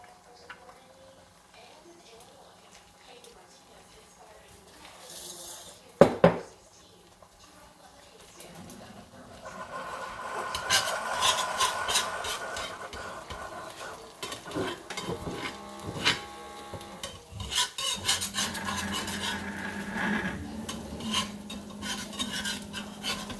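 Sprouted beans are being stirred into an egg in a skillet: quiet at first, then a brief clatter, followed by intermittent scraping and a soft sizzle that grows busier toward the end.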